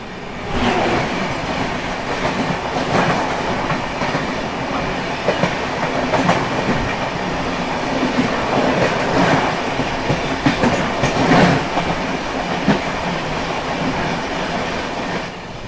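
The Punjab Mail express train rolls past between Jalgaon and Bhusawal in India, loud and close, with a steady rumble and rhythmic clickety-clack of wheels over rail joints and a few sharper metallic bursts.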